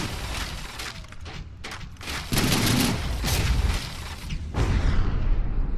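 Sustained gunfire and explosive booms pound a ship apart in the naval combat game From the Depths, dense overlapping volleys that stay loud and rumbling throughout, with bursts of heavier impacts and no talking.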